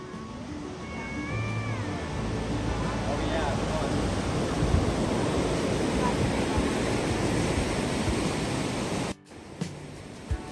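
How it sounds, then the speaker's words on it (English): South Yuba River flowing clear and cold through a steep granite canyon in the high Sierra, Nevada County, a loud continuous rushing wash close by, with a cat meowing briefly early on. "The South Yuba River runs clear and cold out of the high Sierra, cutting a steep granite canyon through Nevada County"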